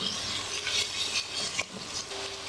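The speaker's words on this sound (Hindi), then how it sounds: "चिकन हल्का सा फ्राई हो जाए और उसमें फिर हम मसाले ऐड करेंगे।" Chicken sizzles gently in a pan with bhindi (okra) while being stirred, soft frying crackle with scraping and rubbing strokes, fairly quiet and close.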